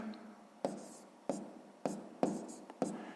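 A pen writes out a sixth-grade math solution by hand on paper, making five short, evenly spaced scratching strokes, faint and close.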